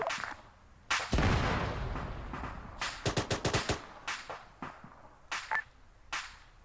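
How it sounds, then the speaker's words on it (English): An explosion in the Arma 3 video game bursts loud and broad near the start, then rumbles away, followed by a quick string of sharp cracks and a few scattered distant-sounding bangs. "What was that giant ass explosion?"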